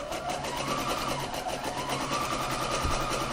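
A sewing machine runs steadily while zigzag stitching along a closed seam, a fast, even mechanical whir heard close and moderately quiet for a few seconds without talk.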